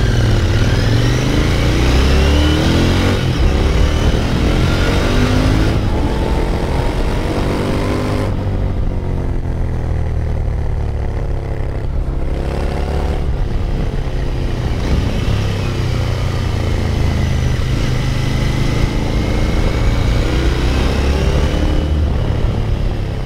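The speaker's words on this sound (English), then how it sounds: "If you don't know how good this engine sounds," A Royal Enfield 650 Interceptor cafe racer motorcycle engine runs loudly and continuously, its pitch rising and falling with throttle blips and revs, close by and alone.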